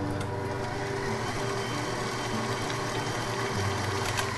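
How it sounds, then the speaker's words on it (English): An electric stand mixer runs slowly, blending cake flour into chocolate lava cake batter with a steady motor hum and faint rhythmic churning, close and continuous. "Turn the mixer on slowly so that you don't get cake flour all over the kitchen and all over you"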